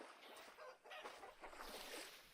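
Chickens in the video game Vintage Story cluck in short, repeated bursts, sounding close over a steady ambient wash.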